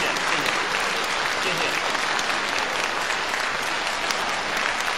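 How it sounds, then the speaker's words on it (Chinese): Audience applause at a televised singing master class, with dense, steady clapping filling the whole stretch at close range while a voice thanks the crowd over it. "我一说不唱，你看这鼓掌"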